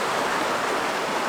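A river or creek at an Arizona rest-stop campsite flows steadily with a broad, continuous rushing wash, close and even throughout, with no voices.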